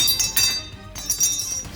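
Loose metal bolts from a bag of motorcycle parts clink and rattle together in a few quick, bright bursts, close up and alone.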